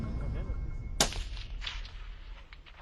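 A single sharp sniper rifle shot cracks once, aimed at a 40 cm metal ring 550 meters from the shooter during special forces training, and then decays into a fading echo over steady background rumble.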